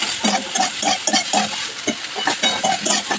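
Soybean chunks seasoned with salt and turmeric sizzle in a pan while a spatula stirs them, giving repeated scraping strokes over a steady frying hiss, close and loud.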